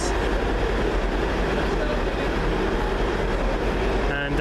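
A passenger train, unit 17406 running the 20:30 service to Glasgow Queen Street, pulls into a Scottish station with a loud, close, continuous rumble of wheels and engine that holds steady throughout.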